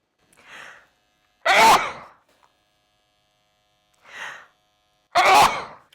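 A person sneezes twice during a scalp microneedling treatment, each loud, close sneeze preceded by a softer inhaled catch of breath, with quiet pauses between them.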